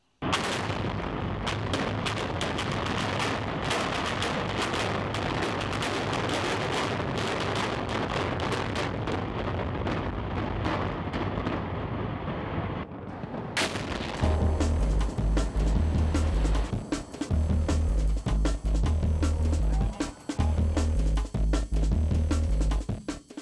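Building implosion demolition, with a long sustained roar of blast and collapsing rubble filling the first half, then an abrupt louder burst followed by heavy rhythmic low booms and rumbling debris, loud and continuous with no talk.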